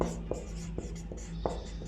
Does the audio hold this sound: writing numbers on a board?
yes